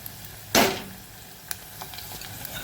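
Chopped onions hit hot oil in a pan for dahi papad sabji, giving one loud sizzling burst that fades into a soft, steady frying hiss with a few small pops.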